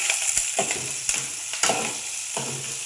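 Garlic, slit green chillies and curry leaves frying in hot oil for a Srikakulam-style tomato dal, with a steady close sizzle broken by several sharp bursts of stirring and spatter.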